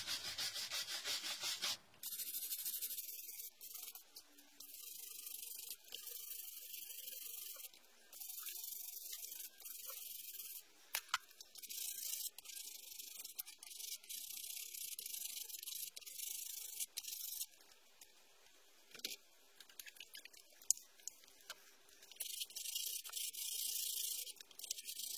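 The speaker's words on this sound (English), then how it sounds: "Use a wire brush to get the big chunks out of the way" A wire brush scrubs the surfaces of heavily corroded brake pads in repeated harsh, raspy strokes, close and fairly steady, broken by brief pauses over about twenty-five seconds.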